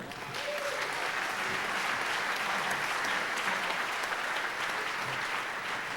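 Sustained applause from a banquet audience at an awards dinner, dense steady clapping filling the room from start to finish with no talk over it.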